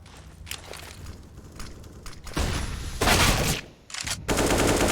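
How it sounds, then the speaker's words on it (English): Gunfire fills a professional CS:GO match on the Vertigo map, with scattered footsteps giving way to loud bursts of rapid automatic fire and single shots that build in intensity toward the end. "Nice shot from Keto"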